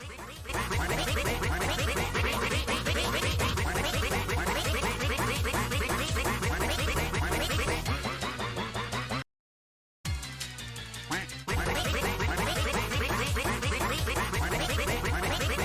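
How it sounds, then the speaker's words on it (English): A duck quacks continuously and loudly in dense, rapid, overlapping bursts, almost like a looped meme sound, with a brief cut to silence partway through before the quacking resumes. "another duck."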